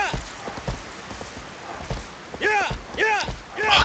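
A horse in Shadow of the Colossus clip-clops with quick, irregular hoof strikes against a soft, rain-like background, and short whinny-like calls come near the end.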